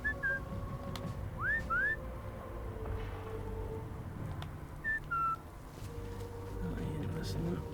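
In the Sniper Elite 5 video game, the player character gives short, rising two-note whistles to lure an enemy. They come in two quick bursts over quiet outdoor ambience with distant birds, and faint game voices sound nearby.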